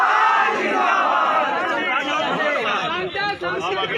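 Large crowd at a night political rally in Bihar cheering and shouting in a loud, continuous roar with overlapping voices and chatter.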